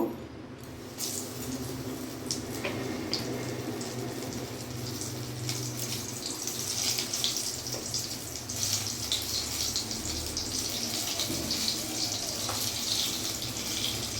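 Battered eggplant fritters (beguni) fry in hot oil with a continuous, busy crackle and hiss. The sizzle stays fairly loud and dense the whole time, with no talking.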